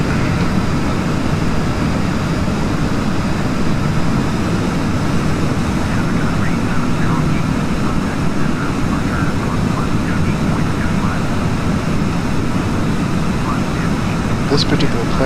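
Airplane engine drone during a landing approach in Flight Simulator X, a steady loud broadband roar throughout with no clear change in pitch.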